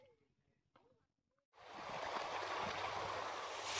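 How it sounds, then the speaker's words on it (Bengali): Rushing river water surges in suddenly after a short quiet stretch, a steady broad wash of waves on a large river in the Sundarbans that stays loud and close to the end. "এইভাবে কিন্তু ঢেউ হচ্ছে নদীতে।"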